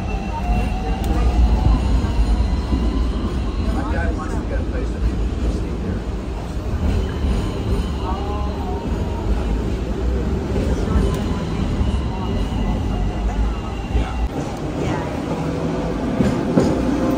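A Hong Kong tram or train rumbles past close by, a steady rolling clatter with squeals over a low drone that lasts throughout, while people talk faintly in the background.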